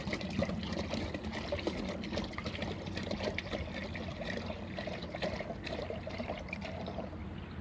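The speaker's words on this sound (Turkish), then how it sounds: "Sonrasında üzerindeki eksik kalan suyu tamamlıyoruz." Water pours steadily into a pump sprayer tank already holding an aphid pesticide mix, a continuous close trickle and splash lasting several seconds with no talk.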